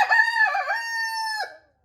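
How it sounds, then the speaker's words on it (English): A backyard rooster gives one loud, close crow, a rising, drawn-out call that holds steady and then drops off abruptly into silence. "But when he does crow, it's like 13 times in a row."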